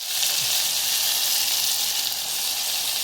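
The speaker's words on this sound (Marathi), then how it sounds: "आता वाटलेला मसाला हा तेलामध्ये चांगला लाल होऊ द्यायचा आहे।" Ground masala sizzles hard in hot oil with turmeric and asafoetida for a Marathi katachi amti, a loud, dense, unbroken frying hiss heard up close.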